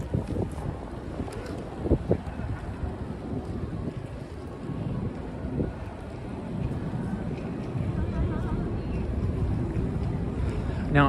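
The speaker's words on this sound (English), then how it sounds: "Hold on, it's getting a little bit windy." Wind buffets a microphone outdoors in midtown Manhattan on a cold Friday night, a steady rough roar with gusty bursts that stays loud throughout.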